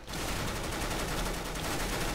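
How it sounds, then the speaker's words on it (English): Rapid gunfire in Counter-Strike: Global Offensive aimed at a hostage, a dense continuous burst of shots lasting about two seconds at steady loudness, with no talking. "I'm gonna shoot the hostage."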